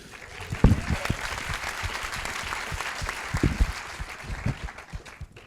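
Audience applause in a writers' room event, a moderate spread of clapping with a few sharper claps, mixed with a low murmur of voices.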